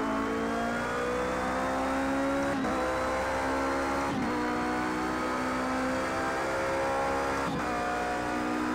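A Toyota endurance race car in Project CARS 2 holds a steady, loud engine tone through the whole stretch, the pitch climbing slowly with brief dips at each gear change, and no voices over it.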